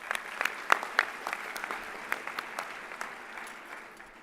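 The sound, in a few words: audience applause at a high school commencement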